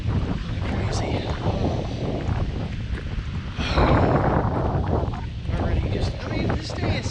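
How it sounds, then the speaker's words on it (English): Strong outdoor wind buffets the microphone with loud, gusty low rumbles and rushing bursts, peaking in waves while someone talks over it. "If you can even hear me because of the wind."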